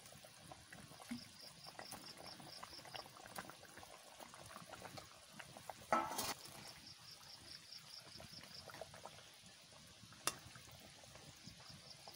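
Potato curry simmers and boils in a pot, giving a soft, continuous bubbling and popping with a few brief louder blips, close and fairly quiet with no one speaking.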